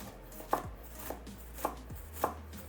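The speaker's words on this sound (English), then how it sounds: "Next up, we're gonna finally chop up our onions." A knife chops onions on a cutting board in a handful of distinct, well-spaced strikes, each a crisp close knock against the board with quiet pauses between them.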